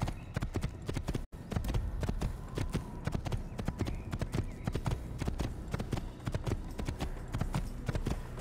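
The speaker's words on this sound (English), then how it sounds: "Get on the horse." Steady horse hooves clip-clopping at a brisk trot in the video game Assassin's Creed, rhythmic and continuous with a brief dropout, alongside a faint whinny and no talking.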